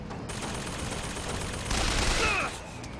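Dense gunfire fills a Bioshock Infinite game scene, a loud continuous burst of rapid shots that swells briefly near the middle before dropping off.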